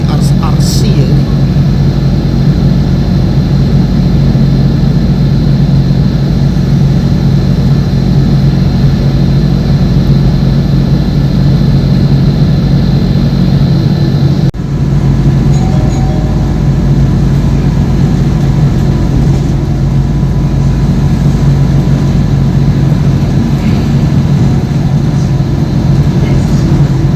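A CRRC train passes nearby with a loud, sustained rumbling roar and steady low drone that fills the whole stretch, a faint brief tone surfacing midway while a person talks quietly.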